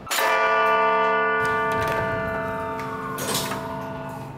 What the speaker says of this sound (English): when the bells strike, the quarter chime and the hour strike